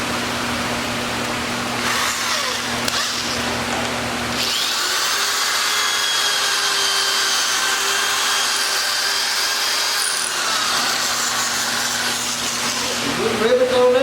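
A power drill fitted with new bits whines steadily at close range, running for several seconds with a few brief pauses, under faint background noise in a workshop where a 2005 Polaris Trail Blazer quad is being repaired.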